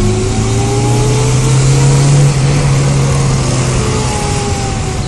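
A supercharged 1.0-litre Ford Fiesta engine revs loud and close, holding a strained, steady drone with a whining tone that climbs slightly then eases back, on a car that had been misfiring.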